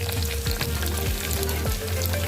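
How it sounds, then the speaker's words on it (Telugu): Green peas and potato fry in a pan for Godavari-style veg pulao, a continuous close sizzle with rhythmic scraping stirs of a spatula every half second or so. "అన్నీ వేసుకుని ఫ్రై అవ్వాలన్నమాట"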